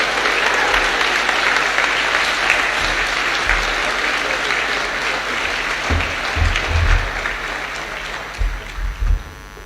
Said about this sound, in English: Please join with us one last time in a round of applause for the class of 2021